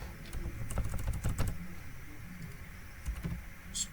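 Keys clatter on a computer keyboard in short irregular bursts while a table name is entered in a database program, close and moderately quiet, with no voices.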